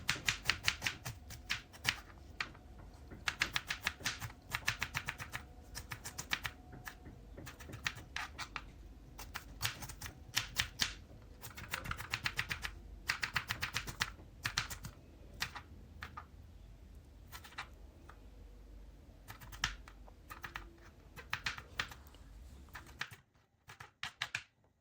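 Onion being finely chopped with a knife for an Ethiopian beetroot and potato dish: rapid, close, steady knife taps against a board that run almost without pause, then stop near the end.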